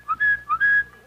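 A voice imitates a whistling tea kettle with four short whistled tones in two pairs, each a brief lower note rising into a longer, steady high note, close and clear with no other sound.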